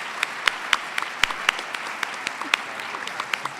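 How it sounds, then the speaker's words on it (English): Lighter audience applause for panelists at a PKU adult and teen panel discussion, scattered distinct claps over a steady patter throughout, fairly close and moderately loud. "I want to give a big round of applause to our panelists this morning."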